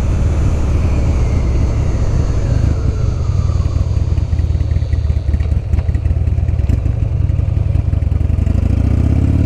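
A 2006 Buell XB12R motorcycle engine running hard and close, a loud, rough, steady roar climbing in pitch toward the rev limit, with no talking.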